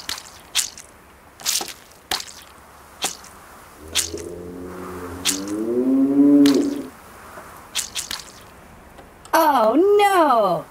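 A cow moos in a LEGO Minecraft animated adventure, one drawn-out lowing call in the middle, with short voice sounds and clicks before it and a different wavering cry at the end.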